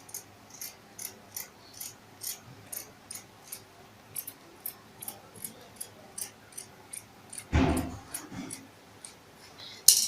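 Scissors snip through fabric along a pattern in a steady series of crisp, evenly spaced cuts, close up, followed by a louder rustle of cloth near the end.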